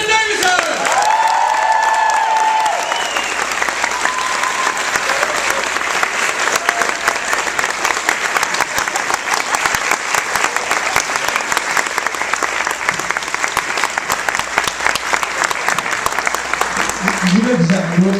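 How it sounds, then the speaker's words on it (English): Convention audience applauding and cheering as the fifth Doctor actor takes the stage at a Doctor Who fan event, a loud, dense, sustained ovation filling the whole stretch, with a voice announcing at the start and brief whoops near the end. "Please give a large hurricane hoo round of applause for the fifth doctor,"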